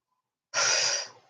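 A single close, breathy exhale during a weights exercise comes out of silence, sharp at the start, then slowly trails away over about a second.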